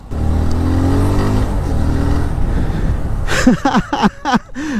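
A TVS Apache 2V ABS motorcycle is ridden, its engine holding a loud, steady droning hum before a burst of quick rising and falling revs near the end.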